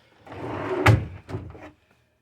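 A drawer slides and bumps shut indoors, a short scraping rush followed by a solid knock and a second softer thud, then quiet.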